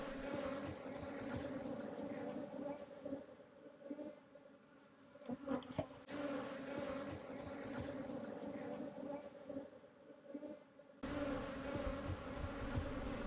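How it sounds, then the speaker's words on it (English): Honeybees hum in a steady dense drone inside an overcrowded hive box, close and continuous, with brief handling noises midway and a louder stretch at the end. "The box certainly appears full of bees"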